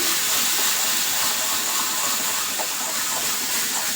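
Stuffed green masala eggs frying in hot oil, a steady, loud, close sizzle and hiss that holds without a break, with no voices over it.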